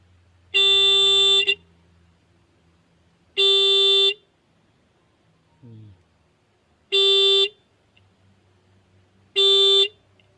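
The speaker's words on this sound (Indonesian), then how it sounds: "Nantinya klakson ini akan bunyi." A motorcycle horn rigged as a home alarm honks four times in steady, evenly spaced bursts of about a second each, loud and close, with a faint clatter between.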